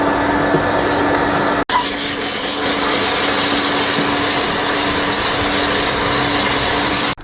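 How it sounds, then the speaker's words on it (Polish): Vacuum cleaner running steadily inside a truck cab during interior cleaning, a continuous loud broadband whine with a brief cut near the start and another at the end, no voices. "Trzeba bardzo dokładnie tą kabinę odkurzyć, zanim zaczniemy robić dalej na kolejny, kolejny etap sprzątania."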